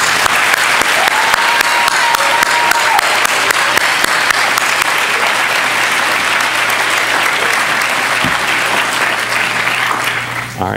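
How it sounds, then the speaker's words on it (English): Loud, sustained applause from a large graduation ceremony audience fills the hall, steady and dense throughout with a slight fade at the very end. "let's give a round of applause for our class"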